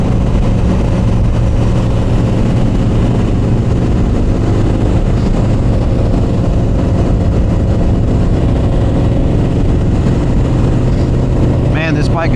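Harley-Davidson motorcycle cruising on the road, a steady low engine rumble with wind noise running throughout, close and loud.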